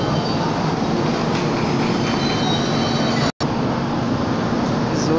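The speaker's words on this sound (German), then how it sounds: "So Leute, da fährt der Zug weg." A train pulls away at an Italian station: a loud, steady broadband rumble of wheels and rolling stock runs throughout with faint squealing, broken by one brief dropout, and no one speaks.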